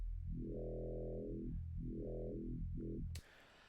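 Three sustained low FM synth tones, one operator modulating another, with bright, shifting harmonics that swell and fade, the last one short, ending in a brief burst of noise.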